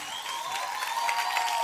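A studio audience at a Peruvian TV entertainment show applauds in a brief, even burst of clapping, with faint sustained music tones underneath.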